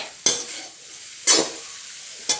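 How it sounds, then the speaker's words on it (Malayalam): Jackfruit pieces are turned in a hot pan, giving three well-spaced scraping stirs, close and distinct, over a quiet background sizzle with no voices. "കൈ എടുക്കാതെ നല്ലപോലെ ഇങ്ങനെ ഇളക്കിക്കൊണ്ടിരിക്കണം കേട്ടോ"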